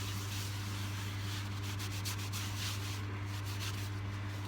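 A wooden bowl is sanded while it spins on a woodturning lathe, giving a steady, continuous abrasive rubbing over a low motor hum. The sound is close and unbroken, with slight swells in intensity and no talk.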